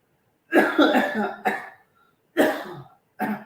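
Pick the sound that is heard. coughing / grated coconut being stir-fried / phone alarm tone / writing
coughing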